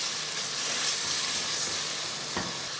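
Onions and garlic fry in hot oil for a white pea pulao, giving a steady, close hiss of sizzling throughout, with a single brief utensil clink near the end.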